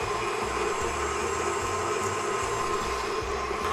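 An electric mixer with a whisk attachment beating sugar into eggs for custard, a steady, loud motorized whir that runs continuously and close without pause.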